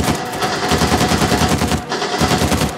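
Rapid, sustained machine gun fire in the Uncharted 4 video game, loud and close, bursts running almost continuously with a brief dip before resuming.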